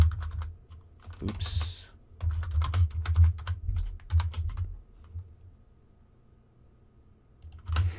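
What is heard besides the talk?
typing on a computer keyboard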